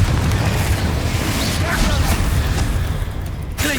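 Spell blasts from Hogwarts Legacy gameplay hit in a heavy, continuous low rumble of booming impacts, loud and close, with faint higher whooshes passing over the top.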